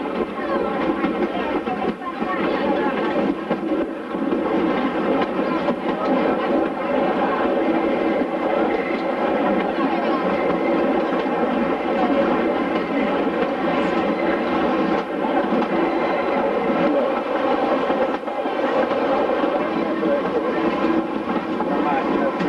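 The Trenino Verde tourist train runs steadily on the rails through green Sardinian countryside, with a loud, constant rumbling drone and a few voices talking over it.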